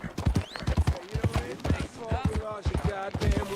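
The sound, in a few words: horse hooves in Red Dead Redemption 2 video game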